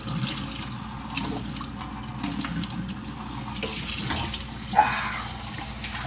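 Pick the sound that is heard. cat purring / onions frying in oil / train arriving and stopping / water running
water running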